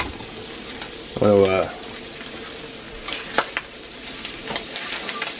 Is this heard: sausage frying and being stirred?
yes